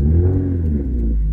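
A Mazda MX-5 roadster's engine revs steadily, a loud close tone climbing gently in pitch and holding for just over a second with no voices.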